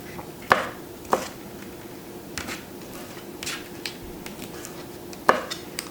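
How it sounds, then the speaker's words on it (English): Knife chopping seafood on a cutting board for ceviche, a few sharp separate chops spaced irregularly over a quiet kitchen background. "we'll start chopping away."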